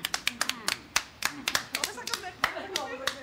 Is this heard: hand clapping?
yes